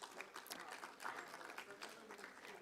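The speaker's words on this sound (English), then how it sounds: "Can we have a huge round of applause as we welcome sir on the stage?" Audience applause in a conference hall at an AI summit event, welcoming the session chair to the stage: a steady wash of clapping hands throughout, fairly faint and even, with no voice over it.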